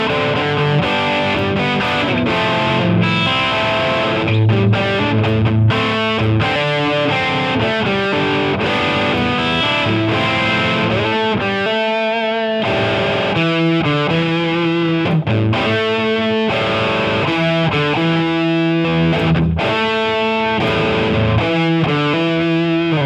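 An electric guitar plays through a Brit Silver tone with boosted highs and gain, loud and distorted, with continuous driven chords and riffs over a sustained stretch and no voices.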